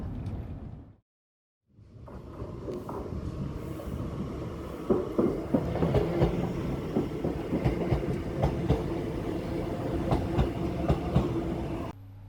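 A Class 395 Javelin high-speed train in Train Sim World 4 rolls along with rising rumble and rhythmic clickety-clack after a brief silence, growing louder and steady.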